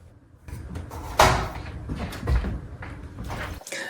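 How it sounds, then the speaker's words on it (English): Kitchen cabinet doors swing open and shut beside a newly installed sliding drawer, giving a run of close wooden knocks, bumps and sliding rattles with one firmer thud, and no talking. "the doors open and close without touching the new sliding drawer"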